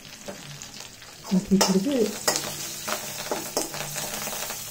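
Ingredients for a coriander-mint green chutney frying in a pan on the stove, a steady sizzle with loud scraping stirs and clanks of the spatula against the pan, close up, while someone briefly speaks.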